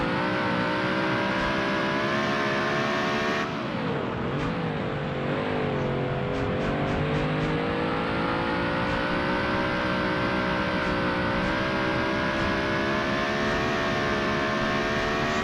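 A race car in a Ford versus Chevy racing video game roars steadily around a course. The engine tone holds high and loud, dips and revs back up through a corner, with no talk over it.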